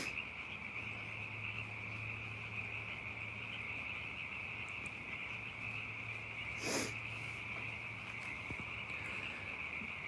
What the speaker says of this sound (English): The rain started falling and the frogs were like, let's rage.